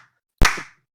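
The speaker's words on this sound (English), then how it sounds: "clapping." A single sharp clap rings out alone in a quiet room, a brief crisp hit with a short decaying tail.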